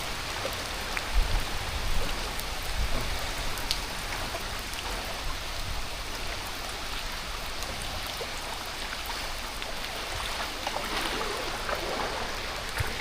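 Heavy rain falls steadily on knee-deep floodwater in an outdoor street, a dense continuous patter and splash with occasional louder drops, no voices.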